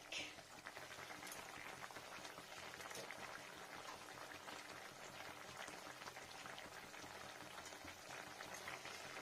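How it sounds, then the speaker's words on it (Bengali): Vegetarian curry of eggplant, potato and tomato with spinach bubbling as it boils in a pan, a continuous soft popping and simmering texture, quiet and steady from start to finish. "দেখুন ফ্রেন্ডস কত সুন্দর ফুটছে"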